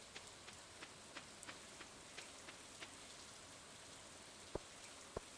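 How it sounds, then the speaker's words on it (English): Steady rain from the video game Stardew Valley falls in a soft, constant patter with faint scattered drops and a couple of sharper ticks, quiet and without any voices. "since it's raining, like I said, let's try to catch one of those catfish"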